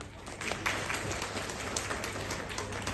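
Audience applause at a press launch event for a businessperson idol show in 2023, a steady dense wash of clapping from a crowd throughout, fairly close and even in loudness.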